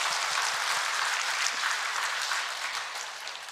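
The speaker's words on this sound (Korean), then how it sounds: "수료하시는 우리 수료자분들에게 격려와 축하와 축복의 박수 부탁드리겠습니다" A church congregation gives warm applause for Bible study course graduates at a completion service, steady dense clapping from the whole room that tapers slightly toward the end.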